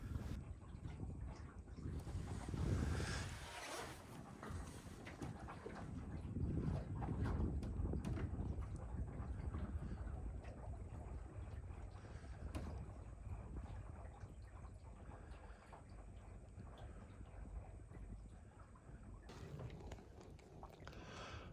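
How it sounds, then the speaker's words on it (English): A Catalina 22 sailboat moving through water in light wind, with soft wash and gentle wind buffeting the microphone, steady throughout with some creaking. "out here sailing the Catalina 22"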